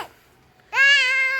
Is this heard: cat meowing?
yes